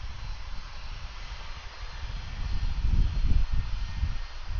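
An Airbus A330 jet accelerates down the runway on its takeoff roll at Atlanta airport in the evening, its low engine roar building steadily in strength and peaking near the end, with no talk over it.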